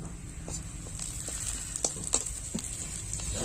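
Chopped medium onion and black pepper fry in a pan for a sour Chhattisgarhi fish dish, giving a soft, steady sizzle with a few sharper crackles and clicks, fairly quiet and close with no talk.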